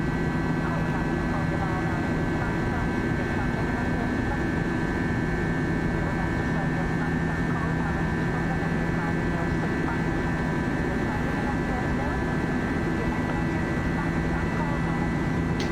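An Airbus A319 climbing after takeoff in a flight simulator game: a steady, even drone of engine and cockpit noise with constant tonal hums, unchanging and continuous throughout.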